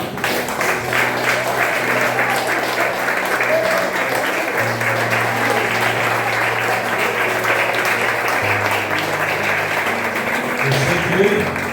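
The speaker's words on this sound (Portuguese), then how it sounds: "vamos aplaudir o Senhor" A large church congregation applauds steadily and loudly throughout, with cheering voices and a sustained musical tone beneath the clapping.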